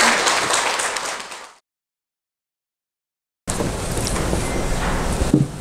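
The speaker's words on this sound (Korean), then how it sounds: "큰 박수로 환영사를 듣겠습니다." A hall audience at a Won Buddhist temple lecture event claps to welcome a speaker, a loud, dense round of clapping that cuts off into silence, then resumes at full strength.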